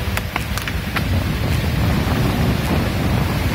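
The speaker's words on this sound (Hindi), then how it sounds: "बहुत तेज लहरें उठ रही हैं।" Strong waves surging onto a Lake Tanganyika beach at Bujumbura, Burundi, heard as a steady, loud broadband roar of surf mixed with wind buffeting the microphone, continuous and close.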